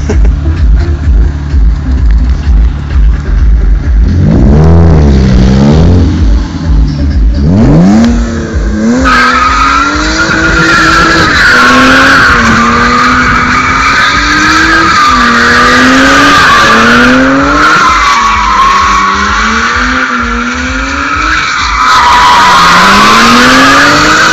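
A BMW car drifting, engine roaring hard while the tires skid and squeal in long wavering howls that rise and fall for over twenty seconds, loud and close.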